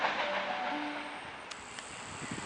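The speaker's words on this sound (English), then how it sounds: "We have T31 pulling in on platform number 6 for a Cronulla service." A T31 suburban electric train pulls into a platform at Sydenham station, a steady rumbling hum with a brief rising whine and a couple of faint clicks.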